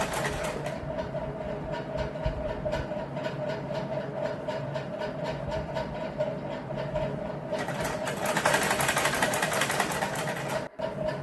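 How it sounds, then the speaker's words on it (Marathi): Sewing machine stitching a fabric frill, a fast steady mechanical whirr with rapid rhythmic needle clatter running continuously at close range, briefly interrupted near the end. "हळूहळू करून मी अशी सगळी आता फ्रिल मारत आहे"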